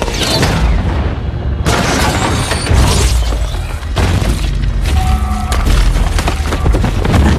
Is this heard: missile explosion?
yes